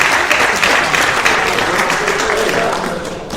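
An audience at a band directors conference gives a full, dense round of applause, loud and continuous for several seconds before it begins to taper off slightly.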